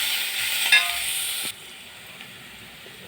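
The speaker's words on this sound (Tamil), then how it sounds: "அதனால நான் வெங்காயத்தை வதக்கி போடுறேன்" Sliced onions sautéing in hot oil for a roasted-spice buttermilk kuzhambu, a loud steady sizzle with a stir clink partway that drops to a quieter simmering hiss halfway through, with no talking.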